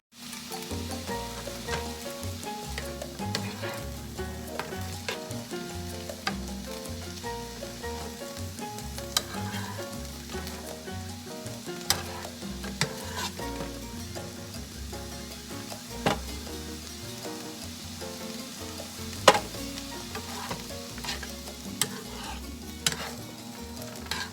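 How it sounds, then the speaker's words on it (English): Onions fry in a hot pan for meatloaf, a steady crackling sizzle running throughout with frequent scrapes and knocks of stirring, close and fairly loud, with no talking. "turn up the heat a little bit more here and get these onions cooked really well"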